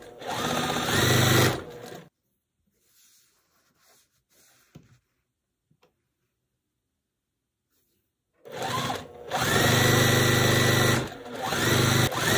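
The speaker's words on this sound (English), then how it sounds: "So I'm gonna sew like" A sewing machine stitching quilt block pieces, running in a close steady burst, pausing into near silence with faint handling clicks, then starting up again for several more seconds.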